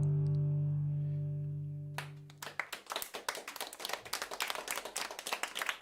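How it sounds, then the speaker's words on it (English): After a sustained electronic tone ends, a small group breaks into clapping, a quick and slightly uneven patter that carries on steadily to the end. "Round of applause."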